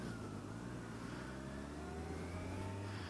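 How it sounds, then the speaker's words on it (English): A 2023 Kawasaki Ninja 1000 SX motorcycle on the move, its engine holding a steady, close drone under constant wind rush for the whole stretch, with no talking. "we are riding a 2023 Kawasaki Ninja 1000 SX"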